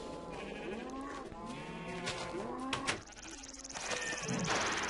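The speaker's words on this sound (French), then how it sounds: "il y a les moutons qui veulent sortir." Sheep bleat repeatedly in the Minecraft video game, several wavering calls following one another at moderate volume, with scattered clicks and a rising noisy texture toward the end.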